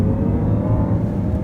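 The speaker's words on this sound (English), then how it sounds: "Really is the most bizarre thing to be in an electric car that makes this noise." Inside a Jaguar I-Pace electric car as it accelerates, a loud, steady synthetic whirring drone with a low, rumbling tone fills the cabin without pause.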